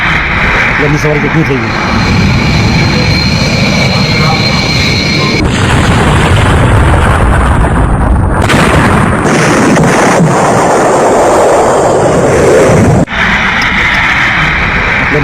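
An airplane crashing just after takeoff and exploding into a fireball, heard as heavy booming blasts and roaring rumble with abrupt surges and cut-offs, loud throughout, with a voice speaking over it.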